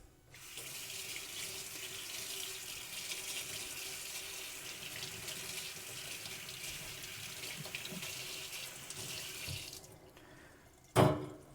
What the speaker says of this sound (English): I'm just gonna go rinse this and it's clean.